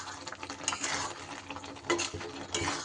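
Fried spice mix stirred through an amla (Indian gooseberry) pickle, with a continuous soft, wet scraping and shuffling at close range, plus a few brief louder scrapes.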